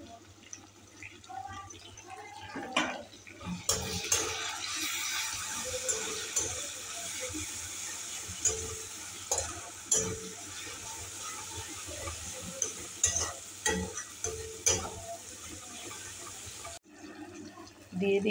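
Spice paste of cumin, coriander and Kashmiri red chili powder is stirred into fried onions in a hot pan, a steady wet sizzle with repeated scraping knocks of the spoon, near and moderately loud.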